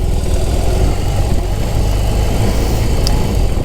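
A BMW R18 motorcycle's engine drones steadily while riding, a loud continuous low rumble with wind rush and no voices.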